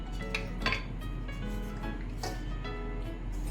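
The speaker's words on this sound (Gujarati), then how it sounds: "આને એક વખત પહેલાં મિક્સ કરી નાખીશું" A spoon scrapes and clinks against a pan while a sweet mixture with cardamom powder and dry ginger is stirred, a few short metallic knocks over a steady low background hum.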